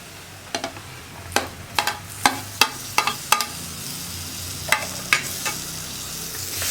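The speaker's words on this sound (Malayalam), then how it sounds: "തക്കാളി ചേർത്തിട്ട് നന്നായിട്ട് ഇളക്കുക." Chopped tomatoes fry in a pan for a tomato potato curry, with a soft steady sizzle broken by about a dozen sharp scraping strokes of a spoon as the mixture is stirred, close and clear.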